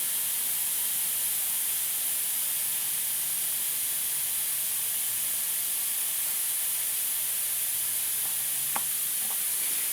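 A tribo powder coating gun sprays powder onto a metal piece, giving a steady, even hiss of air and powder that runs unbroken for the whole stretch, with a few faint clicks near the end.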